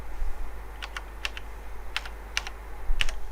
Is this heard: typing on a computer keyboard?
yes